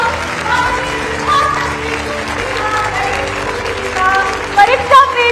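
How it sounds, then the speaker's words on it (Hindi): Applause from a large crowd fills Talkatora Stadium at a formal event, a dense continuous clapping that swells toward the end, with a voice speaking over it. "तालियों की जोरदार गड़गड़ाहट."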